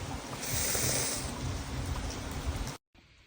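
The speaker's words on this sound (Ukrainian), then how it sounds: "тут також дощ" Steady rain falls outdoors on arrival at home, a dense continuous hiss that holds loud throughout before cutting out abruptly near the end.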